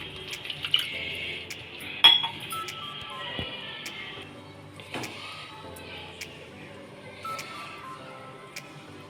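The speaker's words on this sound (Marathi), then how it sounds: "आता आपण त्याच्यामध्ये अर्धा कप पाणी घालूया।" Water is poured from a cup into a pan of okra masala with curd, giving a short splash and trickle, a couple of sharp clinks of utensils against the pan, then a quieter simmering fizz; no talking.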